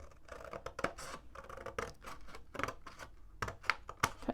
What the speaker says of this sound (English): I'm doing it because I'm using a pair of scissors